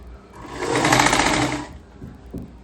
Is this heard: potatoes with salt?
no